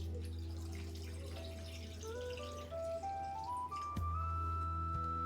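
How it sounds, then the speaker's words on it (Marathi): Half a jug of water pours steadily into a pot of spicy crab curry, its pitch climbing in steps as the vessel fills, over a low steady hum. "अर्धा तांब्या मी पाणी टाकलं"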